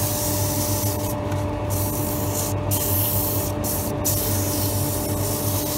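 Sandpaper of 180 grit rubs against a turned wooden spindle spinning on a lathe, a steady close hiss over the motor hum, with brief gaps as the paper lifts away.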